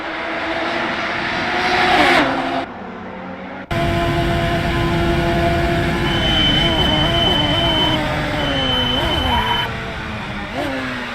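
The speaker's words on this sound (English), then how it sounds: "His Radical SR3 XXR is humming with potential" A Radical SR3 XXR race car engine in a racing video game drones at high pitch, revving up and down through gear changes with a brief drop partway through, while a commentator talks over it.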